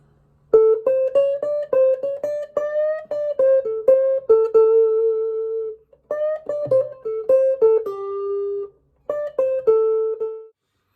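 An electric guitar plays Chicago-style blues licks in A in second position, three quick phrases of bent and picked notes separated by short pauses, clean, close and alone without talk.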